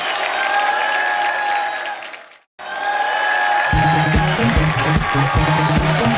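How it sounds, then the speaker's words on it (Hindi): Steady, loud applause from a TV comedy show studio audience, briefly cutting out, then resuming while rhythmic music begins underneath. "एक बार सनी के लिए जोरदार तालियां।"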